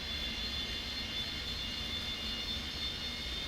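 Simulated Boeing 727 jet engines in X-Plane 10 hold a steady, even roar with a faint high whine running through it as the airliner builds thrust for takeoff, with no talking.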